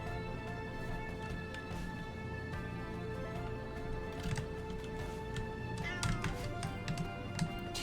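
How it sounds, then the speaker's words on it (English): Cat meows stand in for bumper sound effects in a modded Celeste video game, appearing as short bursts over continuous game music, growing more frequent toward the end. "there's a mod that replaces the bumper sound effects with cat noises"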